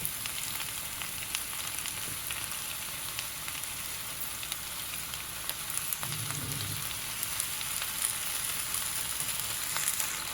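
Fresh fenugreek leaves drop into a pan of frying potatoes for aloo methi. A steady, quiet sizzle runs throughout, with a brief soft thump partway through as the greens land.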